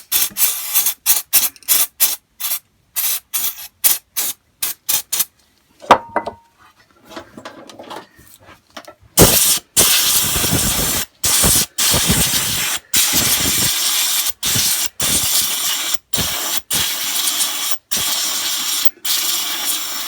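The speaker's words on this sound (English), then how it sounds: "I will just spray a little bit of carb cleaner on that." Rapid short hissing bursts of carb cleaner sprayed on a Hayter 41 mower engine, then longer sustained blasts, close and loud, with brief pauses between them.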